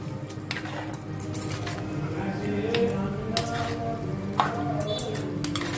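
Curry stirred in a pot with a metal spoon or ladle, a run of clinking and scraping knocks against the pot, and wet squelching mixed in, with a voice speaking over it.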